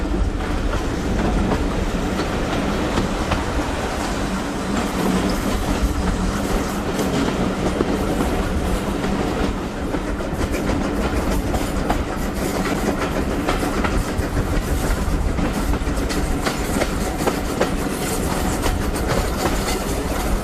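A South Devon Railway heritage train runs between Buckfastleigh and Totnes, heard from inside a carriage: a continuous loud rumble with steady clickety-clack of wheels over rail joints throughout, no voices.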